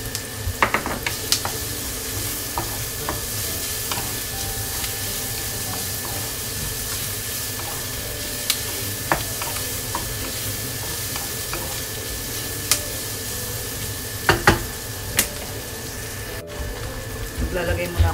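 Garlic sizzling steadily in a hot pan while being stir-fried, with a continuous frying hiss and occasional sharp crackles and utensil clicks, heard close and fairly loud throughout.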